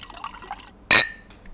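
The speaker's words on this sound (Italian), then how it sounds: "vado a prendermi un po' d'acqua" Water is splashed into a drinking glass in a kitchen during a cooking show, a single brief, bright pour that quickly fades after a quiet stretch.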